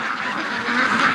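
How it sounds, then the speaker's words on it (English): A Canada goose honks at a lake with ducks nearby, one loud, close, nasal call held for about a second, with no talking over it. "It's just a Canada goose at the lake."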